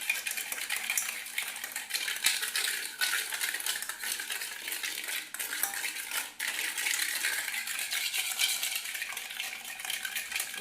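Eggs and sugar are whisked in a bowl for a homemade chocolate cake, with fast, steady metallic scraping and clinking against the bowl throughout and no talking.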